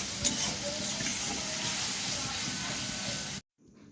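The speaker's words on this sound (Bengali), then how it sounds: "সব উপকরণগুলিকে ভালো করে কষিয়ে নিতে হবে বেশ অনেকটা সময় ধরেই কষাতে হবে যতক্ষণ না তেল বেরিয়ে আসে মশলা থেকে" Spice paste sizzling in hot oil as it is stirred, a constant close crackling hiss with faint scraping movements, continuing evenly until it cuts off suddenly near the end.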